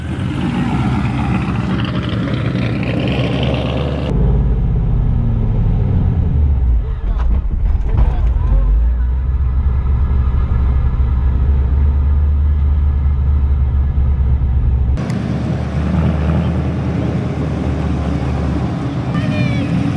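An LS V8 swapped into a BMW E36 rumbles loudly as a learner driver tries a manual gearbox, the engine droning and rising under throttle with a sudden drop near the end, while people talk over it.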